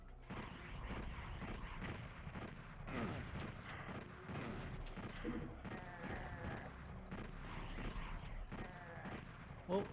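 Gunfire and explosions from the 1995 PlayStation version of Doom, a dense, continuous barrage of shots and blasts layered with game sound effects, loud throughout with no spoken voice.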